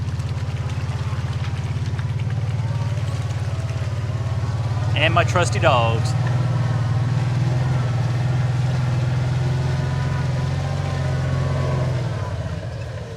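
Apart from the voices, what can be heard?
four-wheel drive vehicle driving through mud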